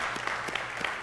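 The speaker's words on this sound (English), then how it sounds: "Let's give God a big hand for that." Applause from a church congregation after a baptism celebration, a soft spatter of clapping heard at moderate distance with no speech over it.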